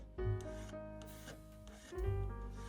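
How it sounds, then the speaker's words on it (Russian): A small file rasps back and forth over a faceted anchor chain of woven wire, steady close strokes with a metallic ringing tone, two long passes with no talking. "Запиливаю цепь мелким напильником."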